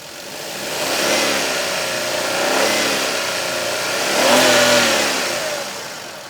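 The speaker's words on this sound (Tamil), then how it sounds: "சரி நான் ரேவ் பண்ணி காமிச்சிட்றேன்." A Maruti S-Presso petrol car's engine revved from idle in three rising pulls, each climbing in pitch and dropping back, heard close and clear with no voices.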